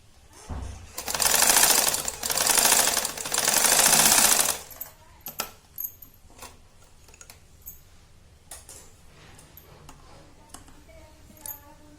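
A sewing machine stitching the shoulder seam of a readymade kurti runs loud and close in three steady, whirring bursts, then gives way to scattered clicks and fabric handling.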